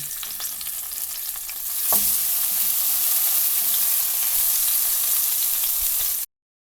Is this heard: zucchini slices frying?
yes